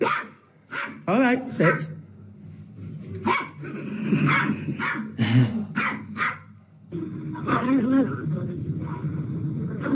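Dogs bark and growl in short bursts mixed with a voice talking over them, the barks fairly close and loud, coming in uneven clusters and then a denser run of noise toward the end.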